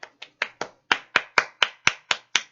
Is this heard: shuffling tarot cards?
no